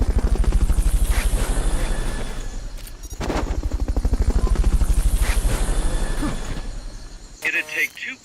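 A video game's Fulton recovery helicopter pounds steadily and loudly with dense rotor chop for most of the stretch, briefly easing midway, under talk and a short burst of other game noise at the end.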